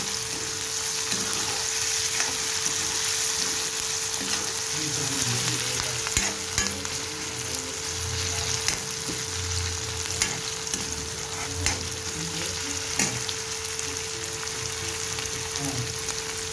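Vegetables for pav bhaji sizzle steadily in a hot pan over full flame, with occasional sharp clinks and scrapes of stirring over a faint constant hum.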